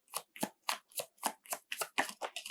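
Tarot cards shuffled and drawn, heard as about ten crisp, evenly spaced riffling snaps close to the microphone in a quiet room with no talking.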